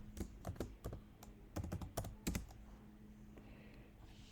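Someone types on a computer keyboard at a desk, a quick run of distinct clacking keystrokes in irregular bursts, then a quiet stretch with a faint electrical hum in the background.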